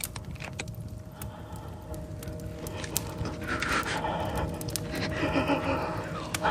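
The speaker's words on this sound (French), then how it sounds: "Vous entendez sa respiration angoissée." Heavy, rapid panting breaths close by, continuing over a noisy background with some murmuring voices.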